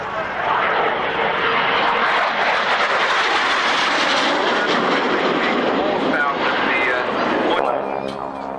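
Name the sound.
Harrier jet aircraft flying past at an airshow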